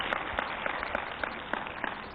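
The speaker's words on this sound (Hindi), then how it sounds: "तो ताली बजाओ इसके लिए भी।" Applause from an audience at a Vedic gurukul gathering in Haridwar, a dense steady patter of many hands clapping together, continuous and moderately loud with no talking over it.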